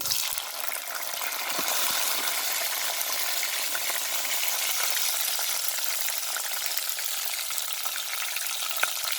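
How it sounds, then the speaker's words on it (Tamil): Garlic and curry leaves sautéing in hot oil in a pan for fish curry kulambu, a loud, steady hiss of sizzling frying with faint occasional stirring clicks, close and alone throughout. "உள்ளி போடுறேன் கருவேப்பமிலை நல்லா வதங்கட்டும்"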